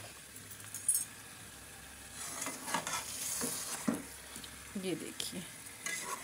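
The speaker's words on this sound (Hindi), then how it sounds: "इसको फ्राई बहुत अच्छी तरह करके आपने करना है" Chicken frying in a pot for Mumbai-style biryani, stirred with scraping, clinking strokes over a steady sizzle; someone speaks briefly.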